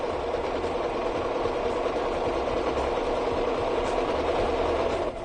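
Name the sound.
sewing machine stitching fabric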